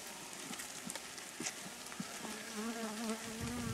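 Honeybees buzzing around an open hive box in a Danish apiary, a close, wavering drone with individual bees flying past the microphone and a few soft knocks from handling the frames.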